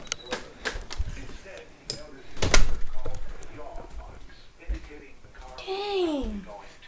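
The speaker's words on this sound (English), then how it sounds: "My cat's banging her head on the door." A cat repeatedly bumps her head against a door indoors, making several irregular dull knocks and thuds, one heavier thump in the middle, followed by a brief drawn-out vocal cry near the end.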